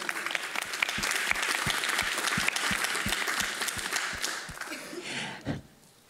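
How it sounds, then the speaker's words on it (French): An audience at a forum on culture and femininity applauds steadily for several seconds, a dense wash of clapping that tapers off and falls quiet at the end. "Et on l'applaudit."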